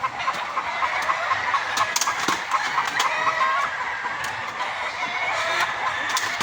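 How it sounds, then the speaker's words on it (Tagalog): A flock of chickens cluck and squawk outdoors in the sun, a steady, moderately distant chorus punctuated by sharper individual calls throughout. "Ingay na mga manok."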